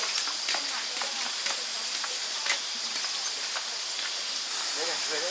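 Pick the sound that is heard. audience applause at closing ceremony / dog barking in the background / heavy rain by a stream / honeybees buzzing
heavy rain by a stream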